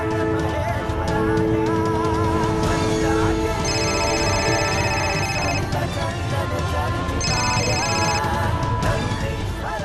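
A telephone rings twice in a Hindi television drama scene, each burst a bright repeated electronic trill lasting about two seconds, heard over background music and scene ambience.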